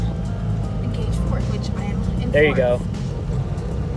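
A 5-speed Cummins dually truck engine drones steadily at low pitch as the driver clutches in and shifts into fourth, the rumble loud and continuous beneath brief talk from people inside the cab.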